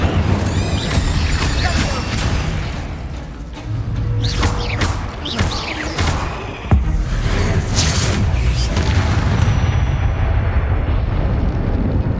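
Incendio fire spell blasts in Hogwarts Legacy, a busy run of bursts, thumps and whooshing crackles amid ongoing game effects, with a sharp hit near the middle and a voice calling out spells over the din.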